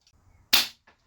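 A single sharp crack from an RTI Prophet air rifle firing its last pellet, close and loud with a quick decay, surrounded by quiet room tone and soft handling noise.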